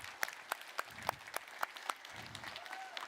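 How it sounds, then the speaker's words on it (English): Scattered claps ring out at a tech keynote at the OpenInfra Summit in Vancouver, 2023, a sparse, fairly even series of distinct hand claps over a low crowd murmur, with a brief thin tone near the end. "One more big round of applause for these folks."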